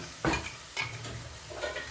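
Masala for a basa fish curry is sautéed in a pan with short scraping strokes of a spoon over a low, continuous sizzle, close and fairly loud.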